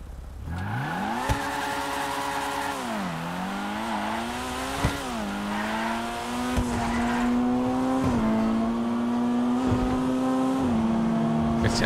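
A Honda Civic Type R in the GTA 5 video game revs and accelerates up through several gear shifts, with the engine pitch climbing and dropping at each change and the tires squealing, sustained and close.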